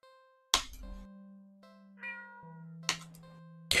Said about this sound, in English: The cat lets out a sad, pleading little sound.